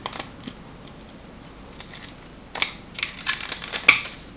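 A glass light bulb squeezed and crushed by hand, a quiet stretch with a few small clicks, then a cluster of sharp crunching and cracking bursts close up near the end, with no talk.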